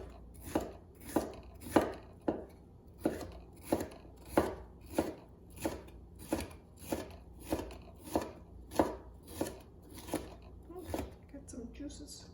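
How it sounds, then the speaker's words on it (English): A knife slices through a cleaned bell pepper on a cutting board with steady, evenly spaced chopping strokes, about sixteen crisp thuds in a row, close and clear. "And we're gonna just slice it through."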